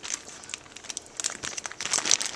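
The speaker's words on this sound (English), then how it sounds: "So we're going to put some baby carrots in." Baby carrots slide out of a crinkling plastic bag into a pot for pot roast, a close, quick rustle of crackling plastic and light tumbling taps lasting a couple of seconds.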